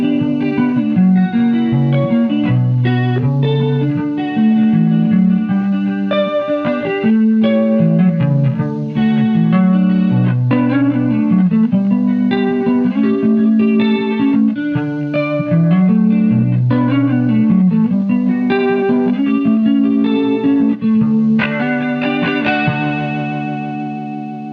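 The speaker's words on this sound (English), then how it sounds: "So let's check out a faster chorus setting, not as deep, used with just some finger picking, all by its lonesome." Finger-picked electric guitar played alone through a Chase Bliss Warped Vinyl HiFi pedal on a fast, shallow chorus setting: a lush, gently wavering melody of plucked notes and chords, loud and close, ringing out to a sustained final chord.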